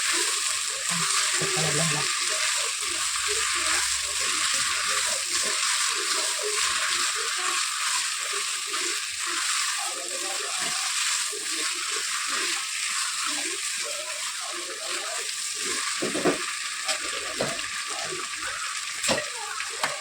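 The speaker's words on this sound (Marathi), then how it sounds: "आता मी हे सगळं भाज्या पण ना असंच ह्याच्यामध्ये फ्राय करून घेणार आहे" Mixed vegetables and tomatoes for a veg pulav frying in a pan, a steady close sizzle with occasional stirring scrapes running throughout, no speech over it.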